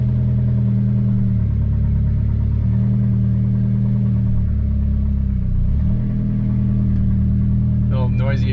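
A Saab 9-3 Viggen engine starts for the first time after an oil pan repair and settles into a loud, steady idle with a somewhat noisy exhaust, heard up close and running alone until a voice speaks at the end.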